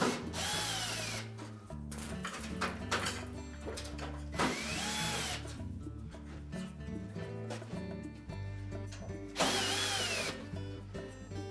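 A power screwdriver backs out number 2 Phillips screws from a Whirlpool range blower assembly, its high motor whine coming in several separate bursts with quieter handling noise between them, close by and without talk.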